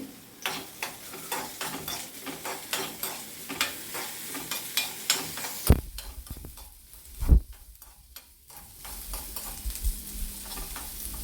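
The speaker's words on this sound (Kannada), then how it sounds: "ಬೆಳ್ಳುಳ್ಳಿ ಎಸಳು, ಕಟ್ ಮಾಡಿಬಿಟ್ಟಿರೋ ಈರುಳ್ಳಿ, ದೆನ್ ಕರಿಬೇವು ಒಂದು ಸತಿ ಫ್ರೈ ಮಾಡ್ಕೊಂಡು ತೆಗಿತೀನಿ" Garlic cloves, chopped onion and curry leaves crackle in hot oil in a pan, with rapid repeated clinks of a ladle stirring throughout and a few louder knocks against the pan midway.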